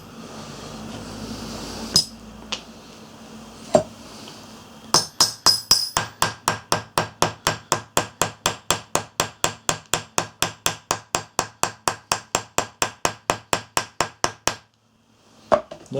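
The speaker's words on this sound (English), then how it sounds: "Let me tap this down to put it in its best possible light." A hammer taps down freshly stitched leather: a few scattered knocks, then a long steady run of about forty evenly spaced sharp taps, close and crisp, ending in a couple of final strikes.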